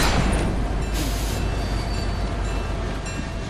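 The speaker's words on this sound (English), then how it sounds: "I'm running the train." Train in the Fortnite video game rumbling past, a loud continuous rolling rail noise with a faint wheel squeal, steady and close before easing slightly toward the end.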